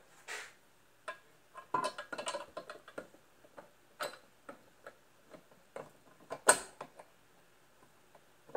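A Grizzly Bear Crawl mobile base mechanism is pushed up and down. It gives irregular creaks, ticks and metallic clicks, some sharp and close, separated by quiet gaps.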